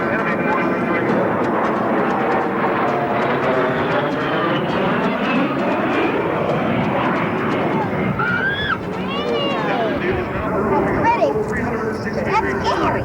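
A Rhode Island Air National Guard A-10 attack jet roars past at a 1994 air show, with a loud, continuous engine howl whose pitch sweeps as it flies by. A narrator talks over it throughout.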